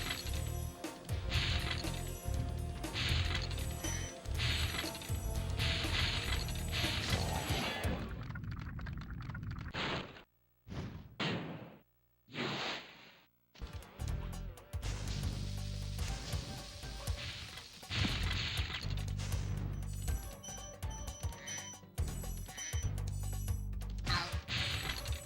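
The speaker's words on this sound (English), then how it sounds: "charging that last fireworks chest can be quite difficult" Spyro the Dragon game audio as Spyro charges into and breaks a fireworks chest: dense, loud crashing and clinking effects with crackling bursts, broken by a few short sharp hits amid near-silence, then the busy sound returns.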